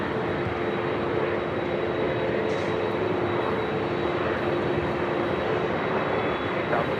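An airliner at LAX rolling on runway 24 left, a steady, loud broadband engine roar with a constant whine, unbroken and close throughout.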